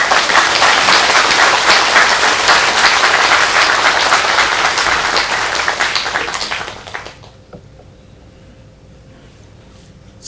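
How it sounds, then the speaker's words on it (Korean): Loud, dense audience applause fills a hall at a Buddhist dharma talk during a New Year all-night meditation session, then fades out after about seven seconds into quiet room tone. "큰 박수 한번."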